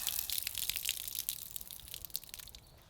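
Water and sediment from a gold-panning batch are poured off, giving a continuous splashing, trickling rush that eases toward the end, with no voices.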